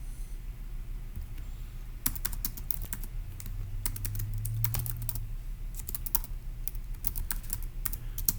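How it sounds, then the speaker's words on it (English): Bursts of clicky keystrokes on a computer keyboard, close up, typing notes in irregular clusters separated by short pauses, with no talking. "that's what I'm going to type in my notes in section E"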